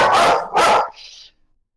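Wild dogs barking in a tabletop role-play session, two loud close barks in quick succession followed by a brief thin whine trailing into silence.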